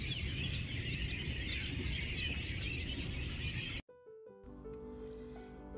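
Robins sing outdoors in early spring, many overlapping chirps and warbles blending into a steady dense chorus at moderate distance, broken by an abrupt cut near the end.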